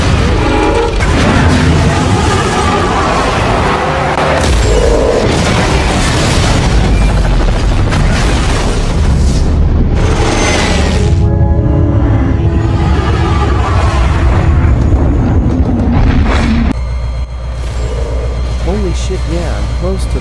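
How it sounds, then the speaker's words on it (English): Loud, heavy booms and crashing blasts dominate, layered with rumbling debris and noise, and a deep rumble lingering near the end. "I heard that explosion."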